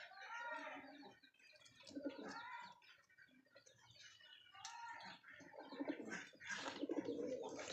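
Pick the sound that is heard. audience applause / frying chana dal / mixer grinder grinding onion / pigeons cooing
pigeons cooing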